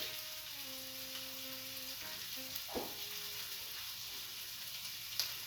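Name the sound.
sausage and garlic sizzling in a pan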